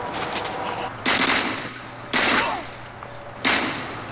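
Video game gunfire from Mercenaries 2 crackles in three loud automatic bursts, each about a second long, with quieter firing and game noise running between them.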